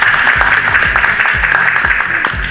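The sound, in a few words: audience applause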